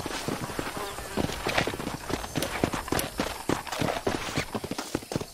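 In Red Dead Redemption (2010), a horse's hooves clip-clop in a quick uneven rhythm, with a faint whinny among them and the steps sounding close.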